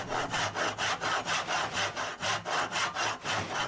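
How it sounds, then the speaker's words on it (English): A hand saw cuts walnut for a dovetail socket in quick, even back-and-forth strokes, about three per second, close and rasping with no talking. "I start by sawing close to the lines"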